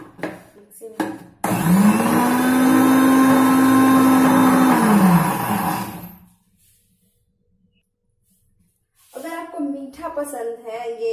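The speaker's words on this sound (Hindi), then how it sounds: "उसका भी हम एक बार और मिक्सर में डाल के ग्राइंड करेंगे" A kitchen mixer grinder whirs loudly for about four seconds as it grinds beetroot pulp a second time to extract the remaining juice, then spins down into silence, with someone talking before and after.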